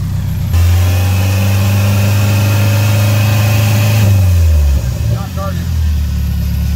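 A Toyota engine with a newly fitted alternator starts up and idles and revs steadily and loudly up close, then drops back to a rough, uneven idle.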